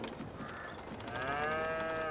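Cattle on a farm in Farming Simulator 22 give a long, loud moo that swells in the second half, with no talk and a soft game ambience underneath.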